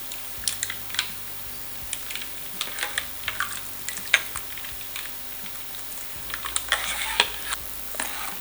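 Ice cream being mixed into sharbat syrup in a bowl, heard as soft, scattered stirring clinks and light wet scraping, fairly quiet and irregular throughout.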